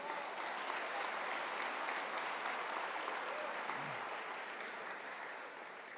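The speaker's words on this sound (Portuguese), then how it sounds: "Dê um aplauso ao Senhor Jesus" A church congregation applauds in praise of Jesus, a sustained, even roar of many hands clapping that carries at a soft, distant level throughout and tapers slightly toward the end.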